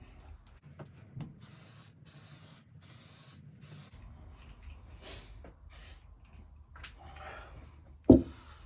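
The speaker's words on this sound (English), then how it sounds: "Okay, so first layer lacquer going on." Lacquer is sprayed onto car door bodywork in several short hissing bursts separated by pauses, close and fairly faint, followed by a sharp knock near the end.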